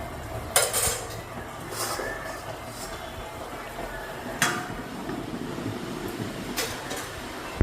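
Lid set onto a pan of potatoes and eggplant on the boil, giving a few sharp metallic clanks and clatters over a steady low bubbling hiss in a home kitchen.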